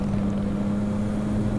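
A motorbike ride on a tree-shaded road, with a steady low engine hum and constant rushing wind noise buffeting the microphone throughout the short stretch.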